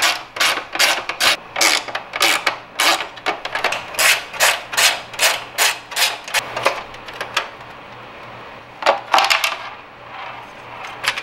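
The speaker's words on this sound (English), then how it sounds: "So take the torque wrench and take it out." A torque wrench unscrewing the housing inside an Umnitza Orion V5 RGB angel eye headlight lens, a rapid series of sharp ratcheting clicks in quick bursts, up close, pausing briefly before a final few clicks.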